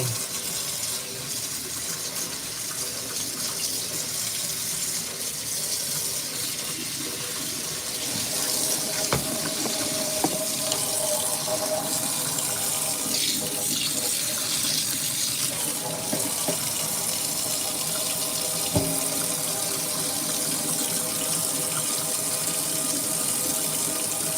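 Tap water runs steadily into a sink while a paint brush is rinsed during art prep, a continuous close splashing hiss with a few brief clunks and no talking.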